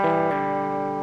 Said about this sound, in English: this is a spring reverb that Cattle and Bread made